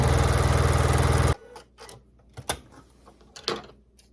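Sewing machine stitching a scrap-fabric pot holder, a loud rapid mechanical whir for about a second that cuts off abruptly, followed by quiet fabric handling and a few soft clunks.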